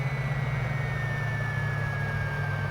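A Fouga CM.170 Magister jet engine spools down in Microsoft Flight Simulator, a steady loud rumble with a high whine that sinks slowly in pitch as it winds down.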